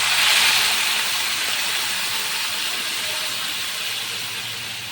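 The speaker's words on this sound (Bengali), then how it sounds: "এখন আমি প্রেশার কুকারে সেদ্ধ করা যে জলটা ছিল ওটাই আমি অ্যাড করব" Cooking water from a pressure cooker hits a hot pan of braised mutton, giving a loud, steady hiss and sizzle that fades slightly over a few seconds, with no talking.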